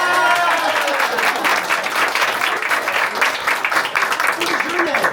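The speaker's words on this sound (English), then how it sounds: "Now you can clap." An audience at a birthday party magic show breaks into close, lively clapping that holds steady for several seconds, with some cheering voices mixed in.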